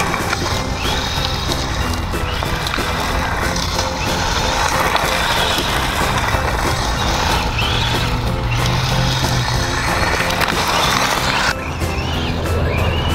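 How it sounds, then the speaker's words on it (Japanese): A Tamiya Manta Ray 1/10 electric off-road RC car runs on its stock motor, giving a continuous loud whir mixed with gritty tyre and gravel noise, with slight rises as it accelerates and turns. "久しぶりのノーマルモーター遅いな"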